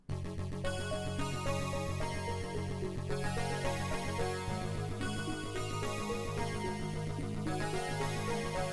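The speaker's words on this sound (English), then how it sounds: "how to create a melodic progression with a riff" A Sonicware Liven 8bit Warps synthesizer riff plays a repeating melodic pattern over sustained bass chords that shift partway through, a steady, full electronic mix with no voices.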